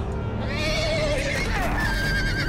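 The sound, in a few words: horses stampeding in video game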